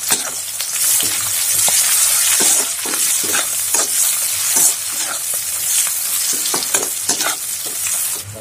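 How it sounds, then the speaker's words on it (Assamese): Onions fry and sizzle in a pan for a home-cooked Assamese fish curry, a steady loud hiss broken by repeated scraping stirs at an uneven rhythm, with no talking. "তো পিঁয়াজখিনি ধুনীয়াকৈ দি দিলোঁ, এইখিনি অলপ ভাজি লওঁ ধুনীয়াকৈ।"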